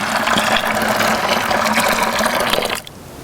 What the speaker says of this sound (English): So I'll just pour a little hot water